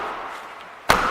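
A 2015 Honda Civic Sport 1.6 i-DTEC has its car door shut with a single sharp slam near the end, following a faint background hum, with no talk over it.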